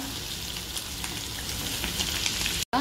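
Paneer pieces sizzling in a pan after being flipped, a steady close crackling fry with small pops throughout, cutting off abruptly near the end.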